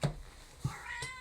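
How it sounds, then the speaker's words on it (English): A house cat meows indoors near a bed, a soft drawn-out call that rises and wavers, faint against a quiet room with light knocking-like thumps. "I've just got to let Kitty outside because I didn't realize she was sleeping on the bed"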